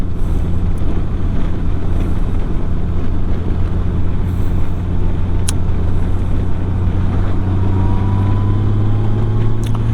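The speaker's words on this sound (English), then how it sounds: "Bike seems to be running good." A motorcycle engine idles steadily nearby, giving a loud, continuous low rumble that holds for the whole stretch with no talk over it.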